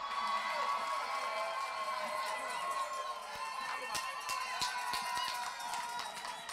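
A crowd at a large march in Brussels cheers and applauds, a dense wash of voices with scattered sharp claps growing more distinct in the second half, heard from a middle distance.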